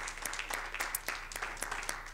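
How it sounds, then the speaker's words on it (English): A church congregation claps at the close of a Bible study prayer, producing a quick run of separate sharp claps. The claps sound fairly close over a steady low hum. "Let us clap our hands and say amen."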